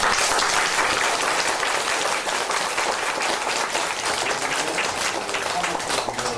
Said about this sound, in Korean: 박수를 한번 세게 쳐보시죠